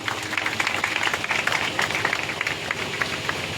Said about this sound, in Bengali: সবাই করতালি দিই